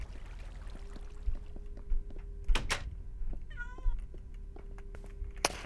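A cat meows in the video game Minecraft: a single clear meow mid-way over a steady low hum, with scattered soft clicks and thumps from gameplay around it.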